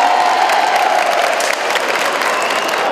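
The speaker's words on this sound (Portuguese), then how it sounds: "Uma salva de palmas pro forasteiro corajoso!" At a social club event, an audience breaks into loud, continuous applause close by, with a few cheers mixed into the clapping throughout.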